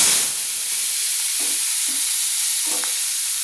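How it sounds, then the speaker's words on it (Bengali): Marinated prawns coated with salt and turmeric fry in hot oil, giving a loud, continuous sizzle and hiss with a few faint stirring scrapes. "ম্যারিনেট করা চিংড়ি মাছগুলো আমি ভেজে নিচ্ছি"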